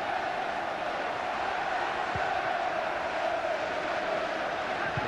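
A football crowd at a Crystal Palace versus Everton match roars with a steady, dense wall of chanting and noise, continuous and fairly loud throughout.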